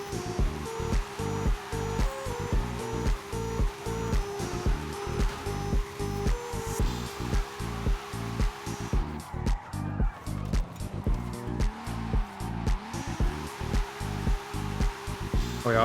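Car drifting in Forza, a steady engine drone with rhythmic pulsing revs and tire noise repeating throughout, briefly easing in the middle before the pulsing returns, close and continuous.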